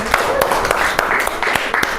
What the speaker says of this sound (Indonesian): Beri tepuk tangan untuk ketiga kelompok